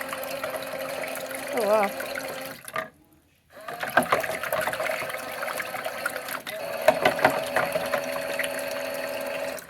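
A Miele W1 toy washing machine's small pump whirs steadily as it moves water through its drum, with gurgling and trickling and a brief pause midway. A person reacts aloud in the middle of it.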